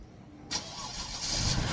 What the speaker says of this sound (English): Turning over, but it ain't starting.